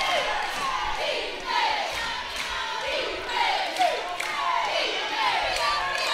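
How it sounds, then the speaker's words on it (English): Crowd noise fills a gymnasium at a women's college basketball game between Southern and AAMU, a continuous roar of cheering and shouting with swelling whoops and a few higher calls rising over it. "Crowd is starting to get into it here at Elmore Gymnasium"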